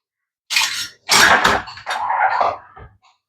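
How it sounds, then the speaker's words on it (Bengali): A metal kadai is set onto a home gas stove with three loud, close clattering bursts of metal scraping and clanking, then silence. "গ্যাসে একটা এবার আমি কড়াই বসালাম"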